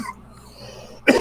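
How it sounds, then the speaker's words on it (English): Coughing after a bong hit: quiet breathing and throat sounds give way to one sudden, harsh, close cough burst at the end. "I'm going to cough a bit"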